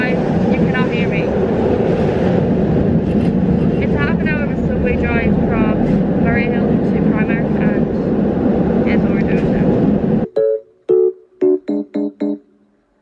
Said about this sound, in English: It's a half an hour subway drive.